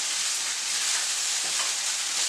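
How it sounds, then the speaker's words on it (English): Manchurian sauce sizzling in a pan, a steady close bright frying hiss with no talk. "I'm going to add it to the Manchurian sauce that's cooking away next to me"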